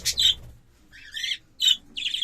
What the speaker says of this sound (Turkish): jumbo, muhabbet kuşları.